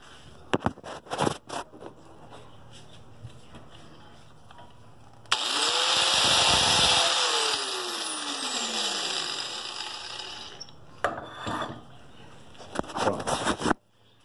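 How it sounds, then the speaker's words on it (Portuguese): Angle grinder fitted with a stainless steel saw disc cutting into the teeth of a steel rack, one loud sustained grinding pass of about five seconds with rising and falling pitch, framed by intermittent clanks and handling noise. "eu tenho que passar a esmerilhadeira mais uma vez pra afundar mais"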